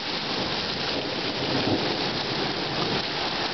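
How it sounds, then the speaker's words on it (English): Steady rain falling in Cary, North Carolina just after a hailstorm, a dense continuous patter with a faint low rumble partway through, no voices. "That's just the rain."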